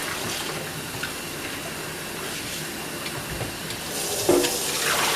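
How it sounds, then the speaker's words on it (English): Plain tap water runs from a kitchen faucet into a pot being filled halfway, a steady broadband rush that swells and grows louder toward the end. "So I'm going to fill my pot up with halfway with just plain water."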